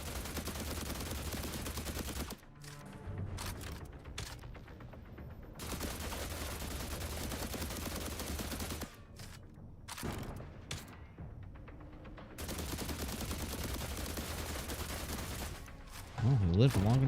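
Rapid gunfire bursts in the survival video game The Last Caretaker, loud sustained volleys broken by short gaps, repeating three times, with a final thumping burst at the end.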